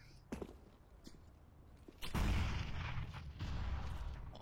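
A grenade goes off in a Counter-Strike match, a sudden heavy boom partway through that leaves a rumbling tail, following a few scattered thuds and footsteps.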